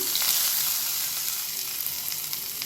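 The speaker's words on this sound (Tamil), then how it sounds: "இப்போது தாளிப்பை இந்த கீரையில் சேர்த்துக்கலாம்" A mustard seed, urad dal and dried red chilli tempering hisses loudly as it hits cooked greens for a keerai mor kootu, a dense continuous sizzle with fine crackles, close and steady throughout.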